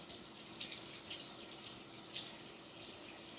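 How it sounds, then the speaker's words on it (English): Water runs steadily from a kitchen tap as a spatula is washed in the sink, a constant close hiss and splash with no break. "take your spatula that's being currently washed"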